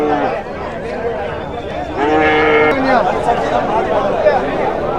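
Native cattle at a rural cow market, with heifers and cows gathered nearby, their low calls and movement mixed into steady crowd chatter and people talking close by.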